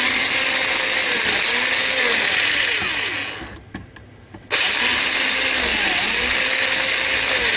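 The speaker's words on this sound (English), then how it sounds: "Hopefully that should be the end of the use of the drill." An electric drill whines steadily while enlarging holes in an Amiga 600 computer case, loud and close, with a brief pause near the middle before the drilling resumes.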